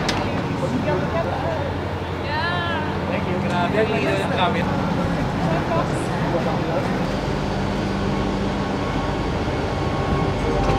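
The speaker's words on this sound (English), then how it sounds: "we will take a 12-hour train to the city of Paris" A long-distance passenger train from Nice to Paris rumbles along steadily with a continuous low roar and faint rattling, while people talk softly inside the carriage.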